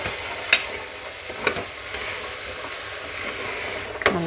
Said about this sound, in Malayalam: നന്നായി ഒന്ന് മിക്സ് ചെയ്യുക കേട്ടോ